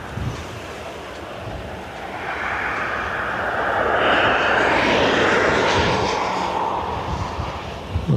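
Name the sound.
ATR turboprop aircraft arriving from Birmingham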